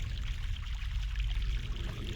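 Fresh mountain water in The Longest Journey, flowing and splashing as a steady, close stream that runs alone without a break.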